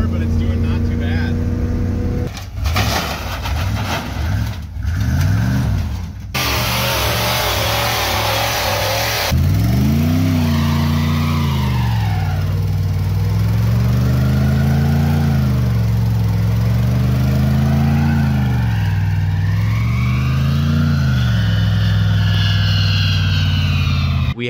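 A truck with a 350 TBI V8 engine runs and drives, its low engine drone rising and falling through repeated revs and accelerations, loud and continuous with brief wind or road noise early on.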